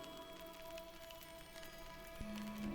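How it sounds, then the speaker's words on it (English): Hail falls outdoors in the video game Book of Hours, a faint, steady patter of small impacts filling the scene with no voices. "you get to hear the hail."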